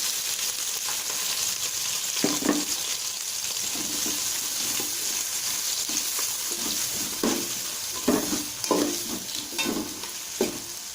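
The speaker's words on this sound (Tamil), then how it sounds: "இப்போ வெங்காயத்தை போட்டுக்கலாம்" Onions fry in oil with whole spices for chicken biryani, giving a steady crackling sizzle while a ladle scrapes and stirs in irregular bursts, louder toward the end, close by and without speech.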